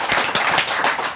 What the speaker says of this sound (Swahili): Wapi makofi ya CEO